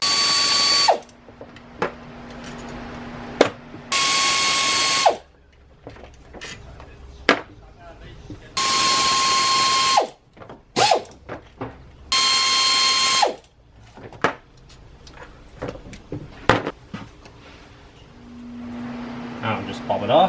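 Ratchet clicking in bursts between louder whirring spins of a power tool removing four 13mm water pump bolts on a Ford Crown Victoria 4.6L engine, close up, with pauses and clanks between passes.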